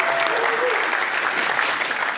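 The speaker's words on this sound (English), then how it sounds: "Quick round of applause for Bianca." Brief round of applause from a seminar audience for Bianca, a steady wash of many hands clapping that carries on evenly, with a faint tonal whistle early on.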